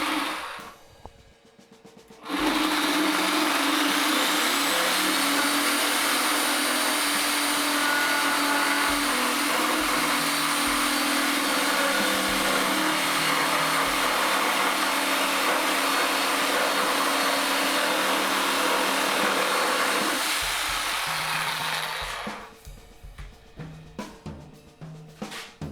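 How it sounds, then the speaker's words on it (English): A Sawzall reciprocating saw cutting into a stainless steel Sanke keg, a loud, steady buzzing roar that runs continuously for about twenty seconds and then stops, with no talking. "what's a project without a Sawzall?"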